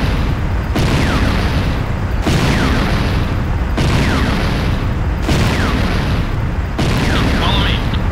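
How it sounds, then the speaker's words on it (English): Repeated heavy booms and blasts from an attack on a GDI Weapons Factory in Command & Conquer, about five dense bursts in a row, loud and close, with faint game voice announcements in between. "GDI Weapons Factory under attack."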